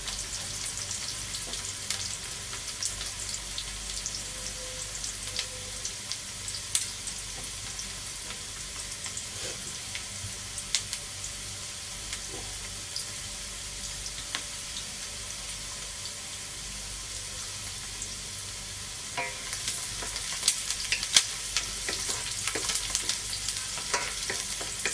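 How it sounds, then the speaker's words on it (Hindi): Finely chopped onions fry in hot oil in a pan as they brown, giving a steady, even sizzle and hiss that runs throughout, with faint clinks and a brief louder rise near the end. "मैंने ऑयल डाला है, ऑयल हमारा गर्म हो गया, उसमें मैं दो अदद प्याज काटे हैं बारीक, वो डालेंगे। प्याज को हल्का थोड़ा ब्राउन करेंगे।"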